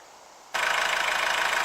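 A 1.6 diesel engine in a Honda CR-V idles steadily, its rumble cutting in abruptly after a quiet moment and holding loud and even with no talk.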